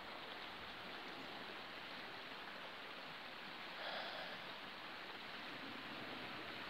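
A brook flowing across a wet moorland walk gives a constant, faint, even rush of running water with no voices.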